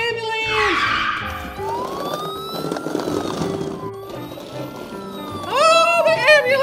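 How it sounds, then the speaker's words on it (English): A toy ambulance siren wails in rising and falling sweeps during a Barbie dream house play session, close and fairly loud, with people talking over it. "Oh, the ambulance is here."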